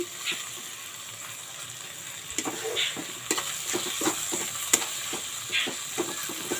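Fish heads or other ingredients frying in a pan for a lentil dal, with steady sizzling and intermittent stirring scrapes and clinks close by, no talking.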